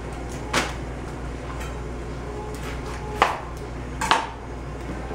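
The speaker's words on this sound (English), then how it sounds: "We're going to cut off this top part." Kitchen knife cutting the top off a red onion on a cutting board: three sharp chops spaced apart against a steady low background hum, close and distinct.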